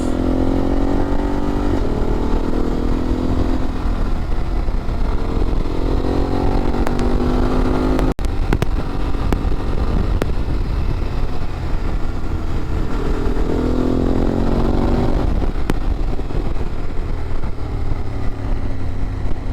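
A BMW F 850 GS motorcycle engine drones loudly and continuously on twisty roads, its pitch rising and falling in repeated sweeps as the rider accelerates and shifts through bends, with steady wind noise throughout.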